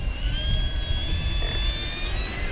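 An E-flite Draco 2.0 RC airplane flying at half throttle, a thin, steady electric motor whine that slowly rises in pitch over a low rumble of wind noise.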